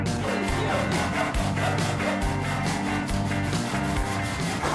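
Wood is cut with a hand saw in steady back-and-forth strokes, a rhythmic close rasp repeating about twice per second without pause or speech.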